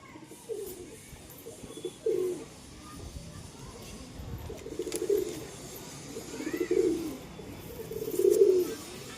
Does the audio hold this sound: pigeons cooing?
yes